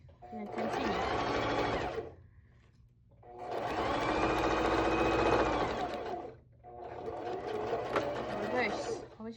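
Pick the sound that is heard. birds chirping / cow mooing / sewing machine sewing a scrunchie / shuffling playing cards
sewing machine sewing a scrunchie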